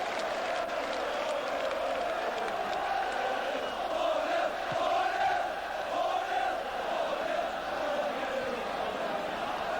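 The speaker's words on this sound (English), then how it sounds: "It's not often that the Newcastle crowd have been able to chant 4-0, 4-0." Newcastle United football crowd at a 1986 home match against West Ham, chanting the 4-0 score: a steady, massed roar of voices rising and falling in a rhythmic chant, heard from a distance for about ten seconds.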